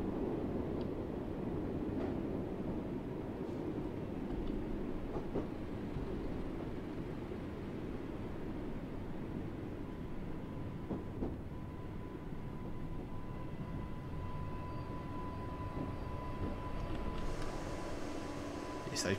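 A Class 484 electric train on the Island Line rumbles steadily from inside the cab, with a thin brake whine rising partway through and lingering as it slows to a stop.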